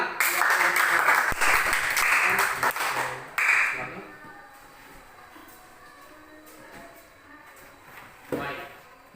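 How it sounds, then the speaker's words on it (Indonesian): Schoolchildren in a classroom clap loudly for a presenting group for about three seconds, then the clapping stops abruptly, leaving quiet room noise, a brief knock and faint voices. "Tepuk tangan"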